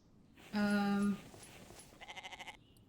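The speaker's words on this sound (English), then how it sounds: "Okay, I hear you, goat." A single loud, harmonic goat bleat from the video game The Infected lasting about half a second, followed by a quieter, rapidly pulsing bleat-like call, with faint background noise.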